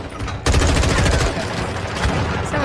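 Sustained automatic gunfire in a multiplayer shooter video game, loud, dense and continuous, a fast rattling stream of shots with no pauses.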